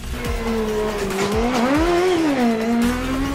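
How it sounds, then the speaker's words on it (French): An old Volkswagen Golf race car climbs a hill-climb course in Guadeloupe, its engine holding a loud, close, wavering drone that rises and falls with the revs, while tires squeal and skid in short bursts. "8e place pour David Barrière et son antique Volkswagen Golf dans cette course de côte"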